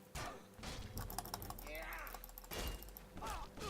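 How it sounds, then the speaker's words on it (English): Rapid, furious clicking of a computer keyboard and mouse while playing The Elder Scrolls IV: Oblivion. Dense clusters of sharp taps continue steadily under game sounds and a voice. "Sorry if you can hear the furious clicking."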